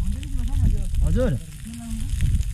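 Pork sekuwa roasting on a hot stone over a fire in a Nepali village gives off a steady sizzle beneath a man's close, continuous talking.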